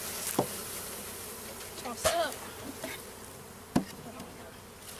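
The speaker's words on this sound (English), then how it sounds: "Let the bees settle." Honeybees from a newly installed package hum faintly around the hive, a soft steady drone broken by a few knocks and sharp taps, with a brief spoken remark.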